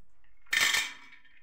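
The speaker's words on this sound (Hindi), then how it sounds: "इसके बाद हम यहाँ पे ऐड करेंगे इसमें बादाम" Almonds drop into a heated pan over a medium flame, giving one brief clattering rattle against the metal in an otherwise quiet kitchen.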